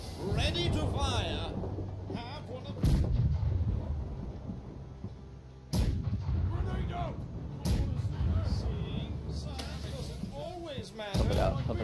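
Heavy naval guns boom in a battleship combat game, several loud broadband blasts spaced a few seconds apart, each landing among constant game noise and chatter from players talking throughout.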